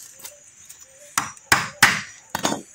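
Four sharp hammer blows bending over protruding nails while building a bridge, spaced irregularly after a quiet start, close and loud with no talking.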